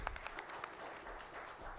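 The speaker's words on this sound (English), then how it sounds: "can we have a huge round of applause once again?" Audience applause at a banking and financial sector summit and awards ceremony, a steady wash of many hands clapping through the whole stretch, moderately loud and unbroken, with no talk over it.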